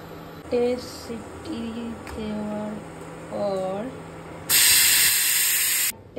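A pressure cooker on an induction cooktop, cooking khichuri with vegetables, lets out a loud, hissing whistle of steam for about a second and a half. A voice speaks intermittently before it.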